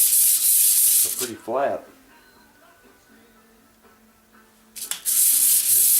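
A bronze thrust washer for a 1980 Can Am MX-6 125 restoration is sanded flat: a loud, close burst of abrasive scrubbing, a lull while someone talks, then the harsh sanding resumes.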